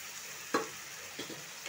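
Mixed vegetables and meat stirred and fried in a pan, a soft steady sizzle broken by a few light scraping clinks of the spoon against the pan, quiet and close.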